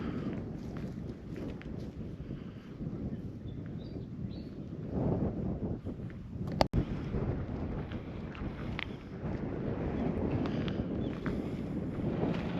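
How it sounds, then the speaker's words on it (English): Strong wind gusts roar and buffet the microphone continuously in the Australian outback, loud and close, with one sharp knock midway and no talking. "Well, the wind's really picked up now."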